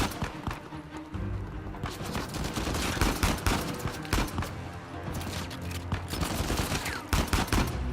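Dense, close gunfire in Uncharted 4: A Thief's End crackles almost nonstop, with heavy bursts and rattling shots piling over each other.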